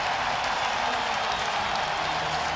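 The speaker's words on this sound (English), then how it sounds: "That's going to draw a great applause from the fans here" Hockey fans in a packed arena during a Carolina Hurricanes home playoff game against the New York Islanders give a steady, loud wash of applause and crowd roar that holds throughout without pause.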